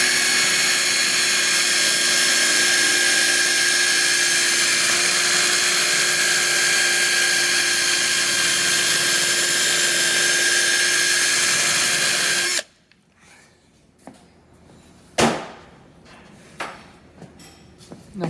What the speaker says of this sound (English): I'm going to use this flapper disc just to clean up the surface here, the edge